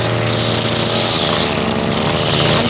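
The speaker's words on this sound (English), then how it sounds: "As you can see, I'm using directional trimming." A string trimmer cuts lawn grass with directional trimming, throwing clippings out onto the lawn, giving a steady, loud, close engine whine with a high buzzing edge that holds evenly throughout, with no talking.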